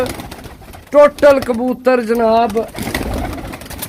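A flock of 36 pigeons coo up close in a few soft, throaty, warbling phrases, loud and clear against a quiet background.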